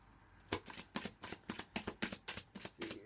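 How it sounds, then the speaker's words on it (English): Tarot cards being shuffled by hand, a quiet run of rapid papery riffles and taps in an even rhythm, close and soft. "Say, give it one more good shuffle."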